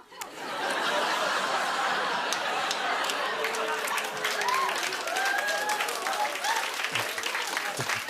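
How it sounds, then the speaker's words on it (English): A studio audience at a late-night talk show breaks into loud, sustained applause that fills the room, with scattered chuckles and whoops mixed into the clapping. "Don't clap too loud."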